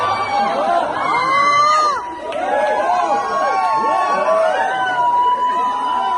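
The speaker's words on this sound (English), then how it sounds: "these are people after the event, those who listened to the interpretation into Russian language, cheering me and my colleagues" An audience after a Tony Robbins event in Cairns, North Australia cheers and shouts continuously for interpreters who translated into Russian, a dense crowd roar with overlapping voices throughout.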